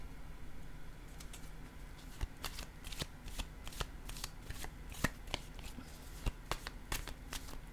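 Playing cards being shuffled and handled in a quiet room, a steady patter of soft riffling with several sharper snaps standing out, close and fairly faint.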